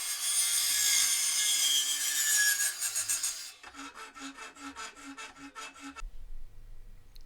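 A hand tool saws rhythmically through a part during Toyota MR2 AW11 repair work, first a dense continuous rasp, then a series of distinct back-and-forth strokes, close and alone.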